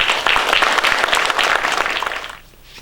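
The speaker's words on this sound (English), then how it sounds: "Let's give these gentlemen a round of applause" An audience at a Farm Bureau candidate night gives a round of applause for the candidates, steady loud clapping from many hands that fades out near the end.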